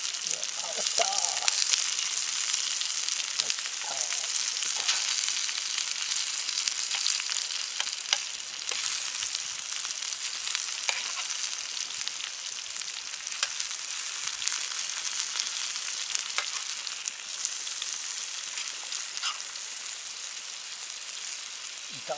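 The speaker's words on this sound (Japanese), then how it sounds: "炒めづらー。" Food being stir-fried in a pan over a summer campfire at a park campsite, with a bright continuous sizzle and crackle, occasional scraping stirs, and a voice speaking now and then.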